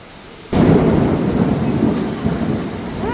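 Heavy rain in Manila hit by a sudden loud thunderclap that rolls into a long rumble over the steady downpour, close and dense, with no talking.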